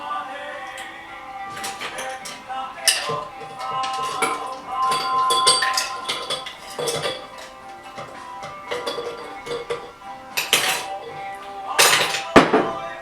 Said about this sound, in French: On remplit préalablement le verre de glaçons.